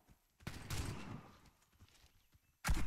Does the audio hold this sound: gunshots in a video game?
yes